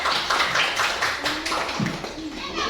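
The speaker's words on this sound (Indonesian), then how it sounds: "Oke, tepuk tangan." A classroom of students claps hands in a steady patter of overlapping claps, fairly close and moderately loud, with faint voices mixed in.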